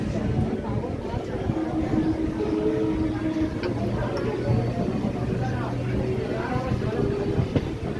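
A Sonarpur to Canning local train runs steadily with a continuous rumble and rhythmic rail clatter, heard from on board while someone talks over it.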